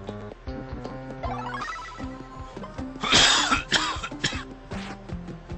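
A person coughs in a few harsh bursts midway through, over busy retro video game music from Zombies Ate My Neighbors that plays throughout.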